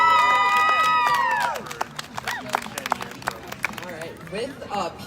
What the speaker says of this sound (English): Let's give another round of applause to Professor William Wagner.